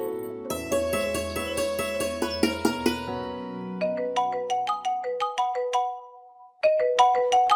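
A mobile phone ringtone plays for an incoming call, a bright electronic melody of quick repeating notes that stops briefly and then starts again, with no one speaking over it.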